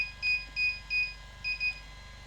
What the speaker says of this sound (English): Okay, now here it's beeping again.